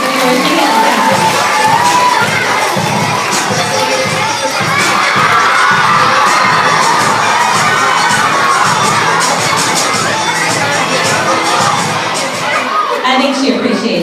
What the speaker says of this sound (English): will you help me in giving a big round of applause to Ice for your dance?